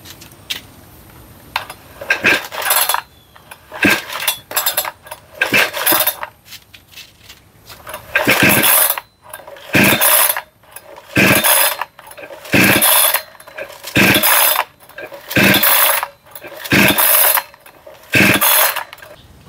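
A generic 20-inch STIHL clone chainsaw has its starter cord pulled repeatedly, a series of loud ratcheting zips spaced about a second apart, close up and with no engine catching.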